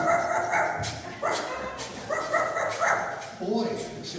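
Large dog barking in a college radio theatre play, several short barks and yips in bursts over continuous dialogue from the actors, close and fairly loud.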